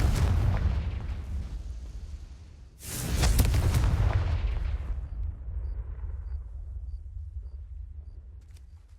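Confringo fire spell exploding in Hogwarts Legacy: a loud burst, then a second heavier boom that rolls off into a long fading rumble, with faint chimes in the background.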